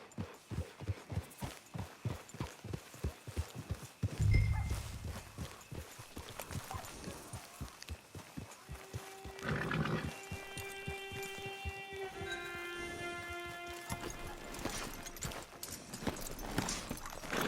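Steady clip-clop of horse hooves at a walking pace, fairly close, with a brief low thump and some tonal game music chiming in later, in Red Dead Redemption 2 Online.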